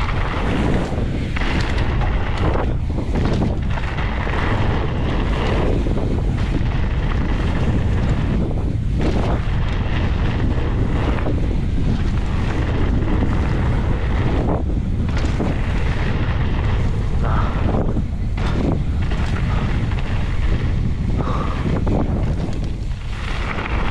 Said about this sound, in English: Still too windy, really.